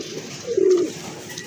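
Pigeons in a breeding pair for sale, one with an egg, give a soft, low coo that swells briefly mid-clip over a faint background hum, fairly close and with no talking.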